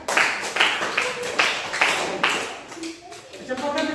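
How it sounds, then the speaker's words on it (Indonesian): Students in a classroom clap together for several seconds, a loose run of hand claps in uneven bursts that fades toward the end as a voice begins speaking. "Tepuk tangan."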